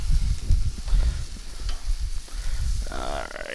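Chicken wings browning on a barbecue grill give off a steady crackling sizzle, with low thumps and scraping of handling mixed in close by.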